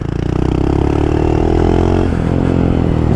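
A Honda Monkey motorcycle ridden close by, its small engine droning loud and steady with a buzzy harmonic tone that rises slightly and then eases off.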